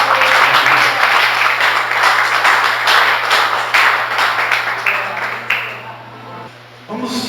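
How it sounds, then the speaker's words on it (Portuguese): A church congregation applauds, dense sustained clapping that fills the room before tapering off near the end, with a low steady hum beneath. "Você pode dar um aplauso ao Senhor Jesus?"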